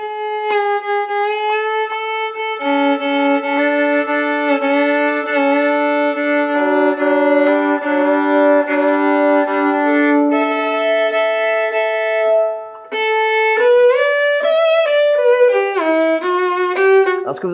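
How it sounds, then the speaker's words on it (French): A solo 1727 Stradivarius violin plays a lyrical melody, bright and close, with sustained notes and sliding phrases, alone without voices. "Ce que vous entendez, c'est le Stradivarius de 1727 qui est sublime."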